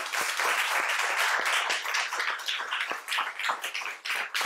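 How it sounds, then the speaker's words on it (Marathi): An audience claps together at a community foundation event, a dense close burst of applause with scattered sharper claps, steady throughout and then thinning slightly toward the end. "त्या सगळ्यांना एकदा जोरदार टाळ्या देऊया आपण"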